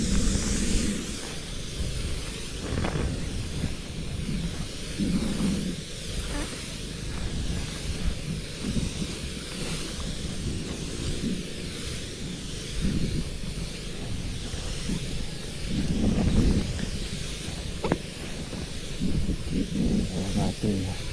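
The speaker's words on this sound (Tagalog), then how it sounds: "Mahangin." Wind blowing outdoors, a constant rushing hiss buffeting the microphone with gusty swells throughout, loud and unbroken.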